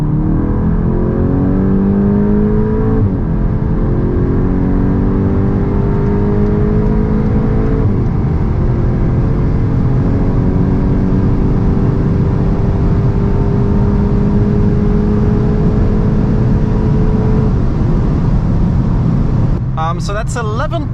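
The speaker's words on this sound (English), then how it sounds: "So let's now see how fast the Edition 45 goes 100 to 200." A front-wheel-drive Volkswagen Golf 8 GTI Edition 45 accelerates hard from 100 to 200 km/h. The loud engine note climbs steadily in pitch and drops back at a few gear changes, with a brief clatter at the very end.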